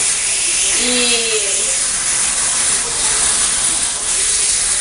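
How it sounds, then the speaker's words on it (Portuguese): Steam hisses loudly and continuously from a pressure cooker of beans as its pressure is released, forming a steady, dense roar that stays strong throughout with only small swells. "Agora eu vou tirar a pressão."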